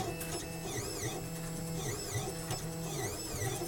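A Solidoodle 3 desktop 3D printer runs steadily, its stepper motors whining in rising and falling sweeps with repeated mechanical buzzing over a constant background hum, close and alone.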